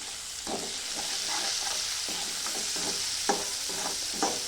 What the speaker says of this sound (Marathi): आता हे मसाला चांगला तेलामध्ये चांगला फ्राय करून घ्यायचा तेल सुटेपर्यंत